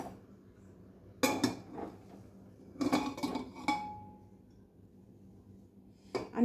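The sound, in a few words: handling hot pressure cooker and cake tin with tongs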